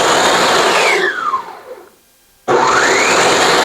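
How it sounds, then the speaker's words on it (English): A kitchen blender whirs loudly as it purees boiled tomatoes, its motor winding down to silence, then snapping back on at full, steady roar. "So here's a blender, turn it on, and then blend."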